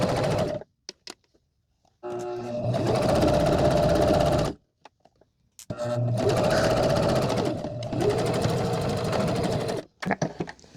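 A home sewing machine stitches fabric in two long bursts, each running a couple of seconds at a steady rapid whir, with short pauses and small start-stop clicks between them, close and loud with no talk.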